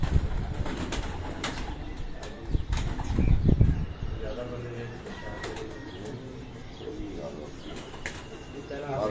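Pigeons taking off from a rooftop loft, a burst of wing flapping near the start and middle, with cooing and scattered bird calls and a voice talking in the background.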